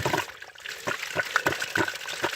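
Water spilling from a disconnected buried water line, an uneven splashing trickle with short bursts and gushes, moderately loud and close, no talk.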